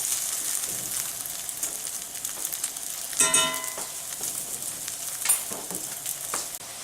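Food browning in a frying pan during holiday feast cooking, worked in batches, gives a steady close sizzle and crackle throughout, with a couple of brief clinks or scrapes of a utensil.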